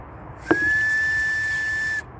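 A handmade whistle carved from elder wood gives one steady, clear high tone, close and fairly loud, held for about one and a half seconds after a short breathy start, with no one talking.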